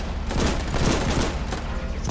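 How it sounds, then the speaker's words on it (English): Sustained machine gun fire during a beach landing attack in the Foxhole video game, a continuous rattling barrage of rapid shots that stays loud and dense throughout the brief burst. "Time to run into machine gun"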